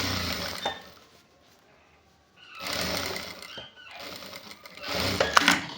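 A sewing machine stitches along the edge of a half-sleeve shirt in several short bursts of rapid clattering, the first brief, then two longer runs separated by a quiet pause.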